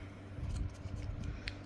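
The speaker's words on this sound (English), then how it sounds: "I can use my scoring tool to help make the fibers of the paper roll" A scoring tool rolling along paper to curl its fibers, a soft rasping scrape that comes close and continues for under two seconds, with a faint tap near the end.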